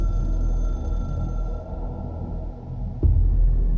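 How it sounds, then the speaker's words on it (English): A hotline telephone in the video game Control, a high steady ringing tone over a low droning rumble that fades out midway, followed by a sudden low thud. "I can hear the hotline ringing in my dreams, constantly ringing."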